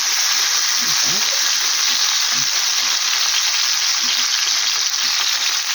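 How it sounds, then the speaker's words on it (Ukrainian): Continuous loud sizzle of bell pepper frying in a hot pan, with occasional soft clinks and scrapes as it's turned over. "Я його отак перевертаю, з кожної сторони, щоб він гарненько смажився."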